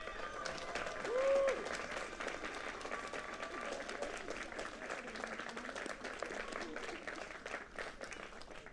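Applause for new doctoral recipients at a university music school commencement ceremony, continuous crowd clapping in a large hall, fairly distant and even, with a brief whistle-like tone near the start.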